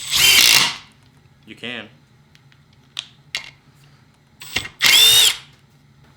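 A Milwaukee M12 Gen 3 impact driver drives a self-tapping screw into wood, with two loud short bursts of driving at the start and end and a brief voice between them.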